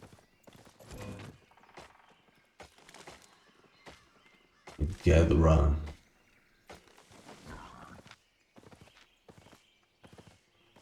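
Horse hooves clip-clopping in the online game Albion Online, a steady rhythm of light hoofbeats with a louder burst of movement midway, heard under someone talking.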